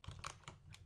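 Several quick keystrokes on a computer keyboard while entering an address into HTML code, close and fairly quiet, with a few irregular clicks and no talking.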